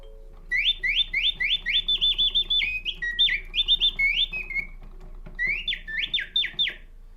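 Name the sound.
mechanical singing bird automaton chirping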